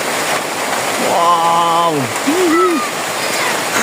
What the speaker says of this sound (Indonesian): Hujannya begitu deras.